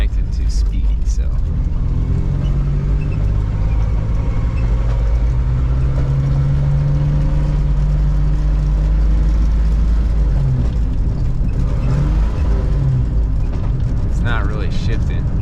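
A Toyota FJ62 Land Cruiser with a slipping automatic transmission drives along, its engine droning steadily with a low rumble that shifts pitch as gears change, loud and close inside the cab, with someone talking over it.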